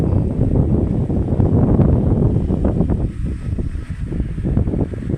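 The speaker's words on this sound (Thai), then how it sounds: "เป็นมอเตอร์เกรดขนาดกลางนะครับ ขับเคลื่อนด้วย เครื่องยนต์ Mitsubishi 624นะครับ" Steady, loud, low engine rumble from a medium motor grader with a 135-horsepower Mitsubishi 624 engine working a laterite dirt road, heard close and continuous with rough, gusty noise throughout.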